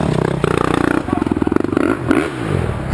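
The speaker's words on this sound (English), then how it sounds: "Sound of a 4-stroke." Four-stroke enduro motorcycle engine at a race, loud and close, pulsing as it revs up, then dropping back to a rough idle.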